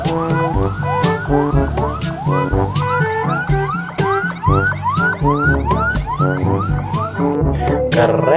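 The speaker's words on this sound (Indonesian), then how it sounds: "Ada mobil ambulan teman-teman." A toy ambulance plays a loud electronic siren up close. A rapid rising whoop repeats steadily, with sharp clicking beats behind it and no voices.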